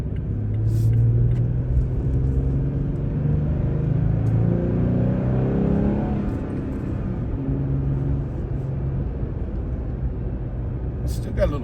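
A tuned car with an automatic transmission revs steadily, its engine rumble holding loud and close throughout with slight swells, while someone talks over it.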